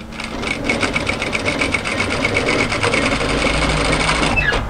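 A sewing machine stitches a mid-length wrap cardigan with a fast, steady mechanical chatter of rapid needle strokes running close and loud throughout, then it slows and stops at the very end.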